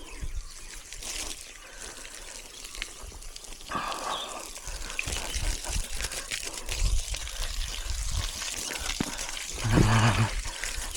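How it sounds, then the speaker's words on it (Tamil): Water spraying and trickling from a farm sprinkler in the Nilgiris, a steady broadband hiss with patters and splashes, fairly close, with a brief low gurgle near the end. "பாருங்கள் எப்படி தண்ணி போயிட்டுருக்கு."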